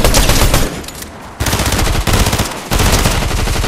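Rapid gunfire in a video game, a dense burst of sharp repeated shots with brief pauses, loud and close with no talk.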